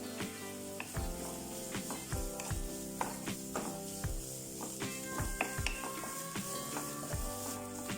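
Onions and green chillies sautéing in hot oil with salt, a soft steady sizzle broken by regular spoon knocks and scrapes against the pan, close and quiet, with no one talking.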